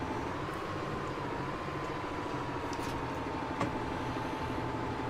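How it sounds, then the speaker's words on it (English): A household Hoover vacuum cleaner drones steadily in the background, a continuous whirring hum that never lets up, with no voices heard. "Someone's just decided to grab the Hoover in the household as I'm recording this."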